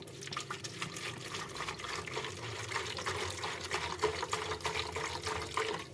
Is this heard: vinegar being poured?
yes